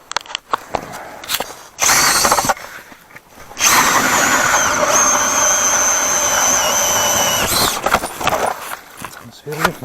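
A hand ice auger or powered drill bores a fishing hole through first ice at dusk on a winter fishing trip, giving loud sustained grinding bursts with short pauses between them.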